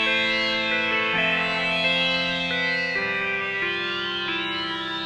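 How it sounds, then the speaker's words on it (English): A sustained chord on a Waldorf Quantum Wave 8M synthesizer shifts through several changes, with a sweeping, swirling phaser coloring the tone throughout. "I'm going to turn on a phaser"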